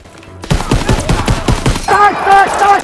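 Rapid bursts of gunfire from the Call of Duty WW2 video game, a dense volley of sharp shots in quick succession, loud and close, with shouting voices over the battle and a higher-pitched tone rising near the end.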